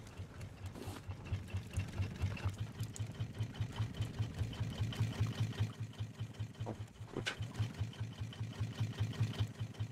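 A boat motor in the survival game Raft runs steadily with a fast, even chugging pulse. It holds a constant level with a few faint clicks on top.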